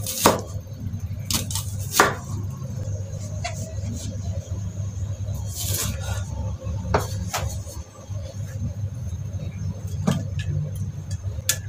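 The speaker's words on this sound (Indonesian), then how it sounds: "Potong bawang." Onions being chopped with a knife on a cutting board for a tortilla breakfast dish: sharp, close knocks in irregular bursts, with a low steady hum from a nearby road or appliance underneath.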